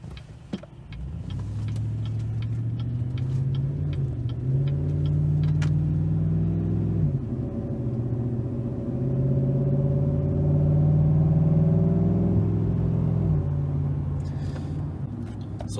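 A 2019 Chevrolet Silverado pulls through its gears as the engine rumbles and rises in pitch, drops at each shift and climbs again, heard from inside the cab with light ticking.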